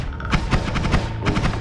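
A wand in Noita fires spark bolts in burst fire, giving a fast run of short crackling pops in quick clusters at moderate loudness.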